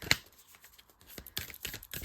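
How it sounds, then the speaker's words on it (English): Heart-shaped tarot card deck being shuffled, a sharp riffle burst near the start followed by scattered soft slaps and flicks of cards, close and fairly quiet, with no talking. "This deck is so hard to shuffle because it's heart-shaped."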